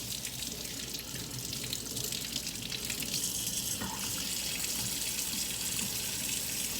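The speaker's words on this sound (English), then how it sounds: "So I'm going to regulate the water so that it's just lukewarm." Lukewarm water runs steadily from a kitchen tap into the sink for handwashing before making homemade garlic hummus, a continuous hissing stream with no talking.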